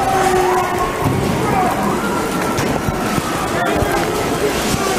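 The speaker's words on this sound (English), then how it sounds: "it's just a driving rain right now out here." Heavy driving rain pours down in a dense, steady hiss and patter, loud and close, outdoors in downtown Seattle, with a voice partly audible beneath it.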